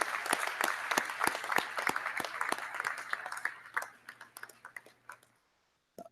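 Steady applause fills a hall at a 2019 university commencement as the audience claps for the faculty, a dense patter of many hands that thins into a few stray claps and stops.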